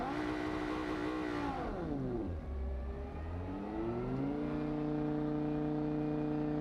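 Racing car engine in the Rennsport driving simulator bouncing off the rev limiter, a loud sustained whine that dips and swoops down in pitch, then climbs back and holds a steady high drone, heard alone.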